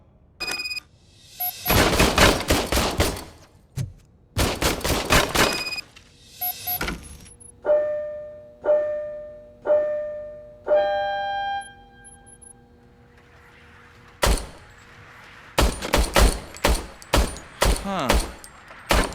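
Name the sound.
service pistol gunfire in video game Robocop Rogue City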